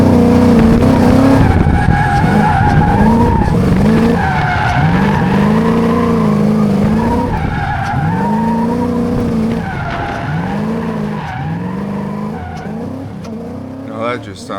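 The engine of a new tow rig bogs at wide-open throttle, revving up and sagging again and again in a rough, uneven rhythm. The engine is loud and close.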